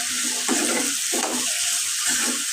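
Potatoes frying and being stirred in a pan, with a steady broadband sizzle and a few louder scraping stirs spread across the short stretch, close up, no voices.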